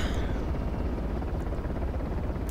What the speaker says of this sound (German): Also hier kommt der Heli nicht rum